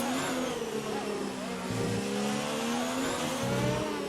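A Formula 1 car engine in F1 2019 at the Abu Dhabi Grand Prix screams at high revs through the final corners, a loud continuous whine with brief gear-shift dips and rises.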